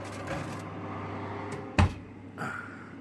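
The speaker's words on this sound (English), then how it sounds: "Now we'll put it in a moderate oven" A tin-foil covered dish slid into a home oven, with a sharp metallic clunk of the rack or door after quieter shuffling and a softer knock at the end.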